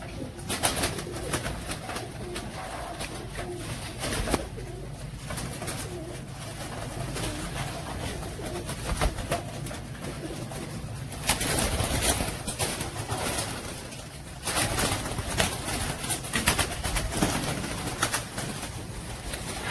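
Royal Teddy pigeons cooing steadily in a loft, with overlapping low, rolling coos and occasional wing flutters, close and continuous throughout, with no voices.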